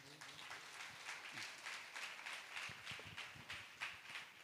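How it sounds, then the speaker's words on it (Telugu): Church congregation applauding together, a soft sustained patter of many hands clapping, fairly faint and distant, with a few sharper claps standing out. "చప్పట్లు కొట్టండి"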